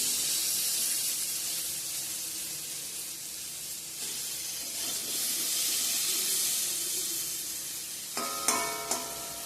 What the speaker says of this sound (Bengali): তো এদিকে মিষ্টি কুমড়া ভাজাটা আমি বসে দিয়ে দিয়েছি।